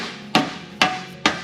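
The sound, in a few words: hammering with a mallet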